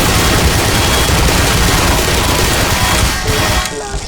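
Turrets in the game Black Mesa fire loud, continuous rapid gunfire in a dense, unbroken burst that cuts off abruptly near the end.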